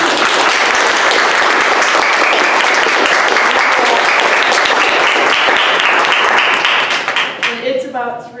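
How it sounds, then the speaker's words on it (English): An audience at a book talk on policing applauds the panelists, dense sustained clapping that carries for about seven seconds before thinning out and fading into scattered claps. "first let's applaud our panelists"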